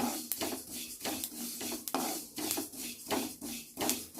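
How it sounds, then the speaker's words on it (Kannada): Sesame seeds dry-roast in a pan with soft, continuous crackling, punctuated by repeated scraping and stirring knocks at an irregular rhythm, close and fairly quiet. "ಈ ಕಡೆ ಎಳ್ಳು ನೋಡ್ರಿ ಹುರಿಯಾಕತ್ತವು"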